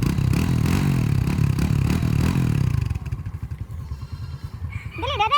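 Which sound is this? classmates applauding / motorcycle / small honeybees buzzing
motorcycle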